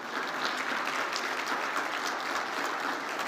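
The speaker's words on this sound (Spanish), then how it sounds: "Denle fuerte aplauso a Cristo" A congregation at a church service gives steady, sustained applause for Christ, a dense even wash of many hands clapping at close to moderate distance with no voices rising above it.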